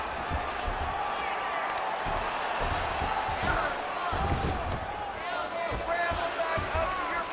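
Crowd noise in the UFC 5 fighting video game, a steady roar of cheering and applause from a large arena audience running throughout beneath an announcer's commentary.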